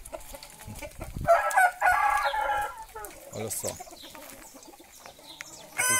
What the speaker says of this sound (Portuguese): Olha a galinha polaca.